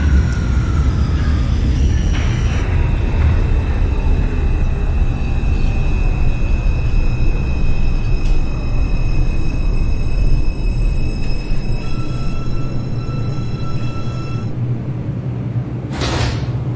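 NYC Subway R142 train on the 2 line in a video game, running with a steady low rumble and rattle, whining motor tones rising and falling, and a sharp clank near the end.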